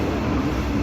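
Broadband rumble of a train rolling past in a video game level with lava workers and robots, loud and steady throughout the short moment with no one talking.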